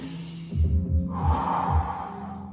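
Deep, drawn-out breaths during a stretching exercise, with a slow throaty inhale and exhale close to the ear and a faint rhythmic throb underneath.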